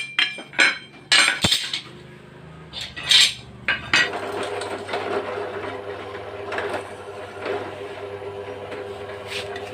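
An aluminum bat-wing fishing arrowhead is marked and drilled: sharp metallic clinks and taps at first, then a steady, close power-drill whine with a droning hum that carries on alone.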